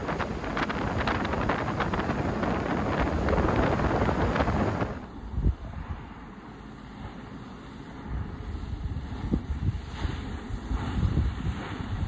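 Wind roars past a Bayliner 245 boat with a MerCruiser 5.7L 250 hp Bravo III drive cruising through a light chop, a heavy buffeting rush that eases after about five seconds into gusty wind and water noise.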